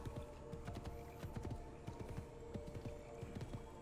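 A horse gallops in the Assassin's Creed II video game, hooves striking in a steady, rapid clip-clop rhythm over a low background drone, fairly close and continuous.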